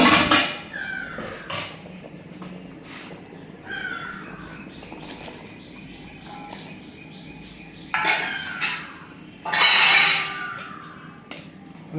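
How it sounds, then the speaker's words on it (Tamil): A cooking pot of spiced kanji is stirred with a metal utensil, giving scraping clinks, then the lid goes on with a couple of louder clanks near the end; nearby and fairly close, with no talking. "கிண்டி விட்டுக்கிட்டு மூடியை போடுறோம்."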